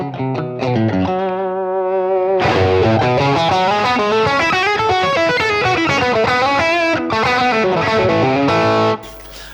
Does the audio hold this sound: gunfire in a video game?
no